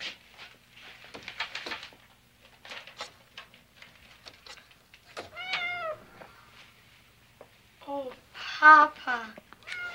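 Kitten meowing several times, clear high-pitched mews bunched mid-clip and near the end, with soft movement and quiet voices in between during an indoor scene.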